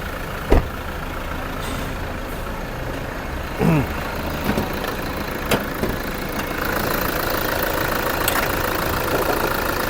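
A Toyota Fortuner 3.0-litre D4D diesel engine idles with its hood open, a steady close rumble broken by a few clicks and knocks, with faint voices in the background.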